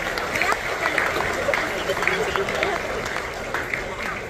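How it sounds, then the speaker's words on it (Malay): An audience applauding at the ceremony marking 100 years of Malaysian rubber research, a dense even clatter of many hands clapping steadily without pause for several seconds, with faint crowd murmur underneath. "Kita berikan tepukan sekali lagi."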